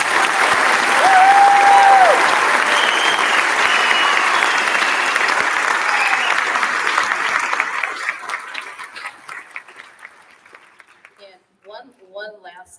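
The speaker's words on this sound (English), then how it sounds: "So I think they deserve a round of applause for sticking with it." A concert audience applauds loudly for children after a beginning and second-year school band festival performance. The dense clapping swells, holds, then thins and fades as a voice starts speaking near the end.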